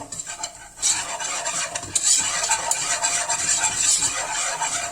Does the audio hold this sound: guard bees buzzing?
no